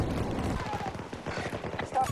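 Rapid gunfire from a Battlefield 2042 Breakthrough match, a dense run of repeated shots through the whole stretch with chaotic game noise and talk over it.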